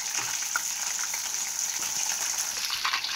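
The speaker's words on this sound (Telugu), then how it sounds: "ఇలా గోల్డెన్ బ్రౌన్లో వచ్చేంత వరకు వేయించుకొని" Soya chunk keema balls frying in hot oil make a steady, bright sizzle with faint crackles and pops. The sound stays close and continuous, with no talk.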